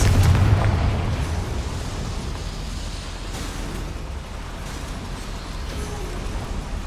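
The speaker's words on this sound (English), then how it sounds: "Incendio should be enough to light these flames." In Hogwarts Legacy, the Incendio spell sets flames alight with a loud whooshing burst that settles into a dense, roaring crackle and continues steadily throughout.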